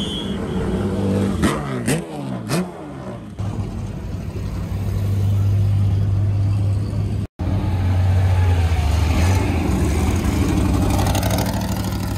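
A De Tomaso Pantera's Ford V8 engine revs sharply a few times, then settles into a loud, steady rumble and drone that runs on with a brief cut in the middle, at Le Mans Classic 2022.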